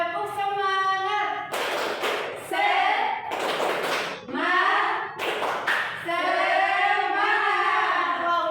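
A fifth-grade primary school class repeats the 'tepuk semangat' clapping chant, with several bursts of crisp, rhythmic group clapping woven between loud chanted children's voices, all close and energetic.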